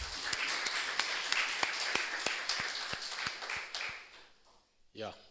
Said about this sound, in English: Let's give a hand of applause to them.